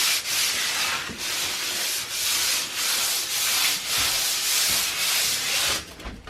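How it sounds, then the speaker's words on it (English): A painted cabinet face is lightly sanded between coats, giving a steady, close, loud scratchy rubbing in long repeated strokes with brief pauses between passes, alone without talk. "we're just going to go around the face of this thing and sand it down lightly"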